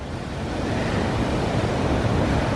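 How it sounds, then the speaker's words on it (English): Big ocean waves break on the shore at the Bay of Fires in Tasmania in winter, making a continuous loud roar of surf mixed with wind buffeting the microphone, with no voices. "those waves are getting really big"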